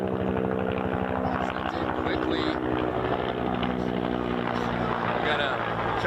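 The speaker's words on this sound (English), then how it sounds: "We got helicopters circling." A helicopter circles above an outdoor soccer match, its steady rotor drone and low throb running the whole time beneath crowd noise and commentary.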